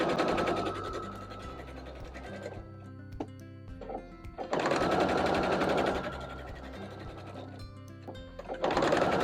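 A sewing machine stitches quilt fabric pieces, background fabric joined to mushroom stalk pieces, in rapid close bursts that stop and restart, with short pauses of small clicks and handling between runs.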